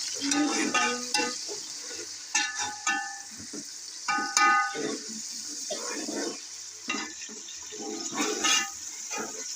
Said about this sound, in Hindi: इसके अंदर टमाटो ऐड कर दिए हैं और हम इसे मिक्स करेंगे